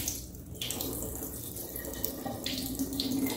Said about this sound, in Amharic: ይሄን ውሃ ደፋዋለሁ ማታ ዘፍዝፌበት ያደርኩትን ውሃ አጠለውና